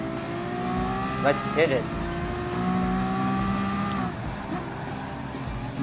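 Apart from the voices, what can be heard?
LaFerrari engine revving for a drag race, Gran Turismo Sport video game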